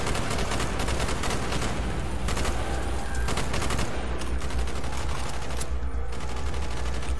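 Sustained firefight in Call of Duty Black Ops, with dense, overlapping rifle and machine-gun bursts filling the street battle, loud and nearly continuous, with brief pauses and no talking heard.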